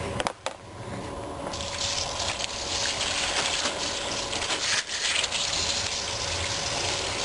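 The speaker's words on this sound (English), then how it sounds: "is just fill it up with water" Tap water pouring into a container of lye-soaked olives for rinsing, a steady, loud rushing fill close by that runs without pause and with no speech.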